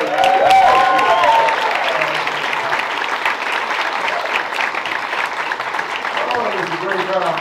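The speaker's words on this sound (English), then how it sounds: "Everybody, how about a hand for this pretty lady?" Comedy cabaret audience applauding loudly and steadily for the full stretch, a dense wash of many hands clapping with some crowd noise mixed in.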